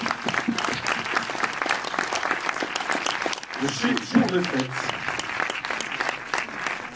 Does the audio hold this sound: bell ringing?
no